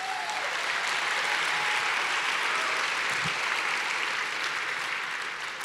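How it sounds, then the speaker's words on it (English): A large conference audience at an opening plenary claps in a steady, dense round of applause that fills the room evenly from start to finish, with no voices rising above it. "Can y'all give yourselves a round of applause?"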